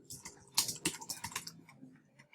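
Quick bursts of typing on a computer keyboard, a short run of close, crisp key clicks with no voices over them.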